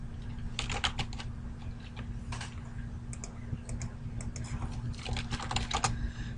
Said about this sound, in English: I'll type in a sample username and password that I have right now